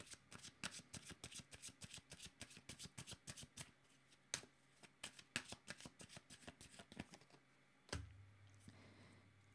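Tarot or oracle cards being shuffled and drawn for a reading, a run of quick crisp riffling flicks and slaps close by, with a sharper card snap near the end.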